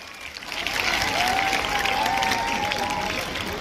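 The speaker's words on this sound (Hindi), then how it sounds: "तो इनकी टीचर्स के लिए और इन बच्चों के लिए, दोनों के लिए जरा जोरदार ताली बजाओ आप।" Applause and crowd noise from an audience of children and teachers at a school's annual cultural program, building quickly into a full, busy clatter mixed with a drawn-out shout or whistle, then holding steady.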